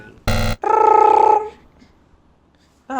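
A phone call rings once with a warbling electronic tone and is cut off, leaving quiet before another short tone starts right at the end.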